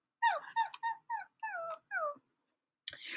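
A human voice imitates a dog's whimper with a run of short, high, whining cries that slide downward, fairly close and clear, followed by a brief rustle.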